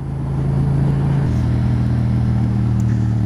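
A pickup truck's engine drones loudly at close range over road noise, its pitch stepping down partway through as it carries on at speed.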